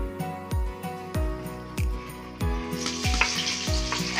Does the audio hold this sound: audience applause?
no